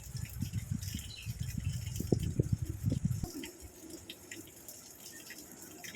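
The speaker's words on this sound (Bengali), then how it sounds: "বাটি মেপেই জল দেবো জলটা আমি গরম করে নিয়েছি হালকা একেবারে গরম আছে আর এক বাটি দিয়ে দেব" Warm water poured from a bowl into semolina dough in a home kitchen, giving a close, burbling splash with rattling bumps for about three seconds, then a quieter soft wet stirring.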